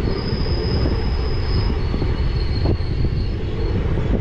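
A train rolls into Badanaguppe railway station on the Mysuru to Chamarajanagar line. A loud, steady rumble of wagons carries on throughout, with a thin high wheel squeal running over it.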